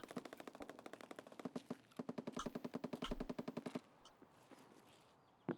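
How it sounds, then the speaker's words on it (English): Rapid bursts of automatic gunfire in the video game Escape from Tarkov rattle in quick succession, fairly faint and distant-sounding, then die away into quieter background with a final single shot. "I can hear some gunfire."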